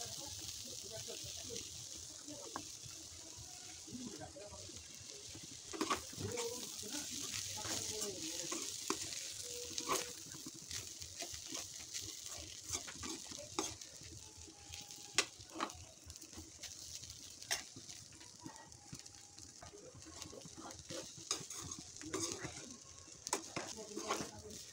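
Poha with fried vegetables such as peas being stirred in a pan, with a steady soft sizzle and intermittent scraping clatters of the spatula, alongside quiet background noise and occasional distant birdsong.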